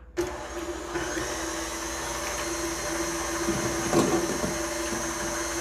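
Electric stand mixer beating just two egg whites for a sponge cake, starting abruptly with a loud, steady motor whine and rattling beaters, close and continuous with a brief clatter near the end.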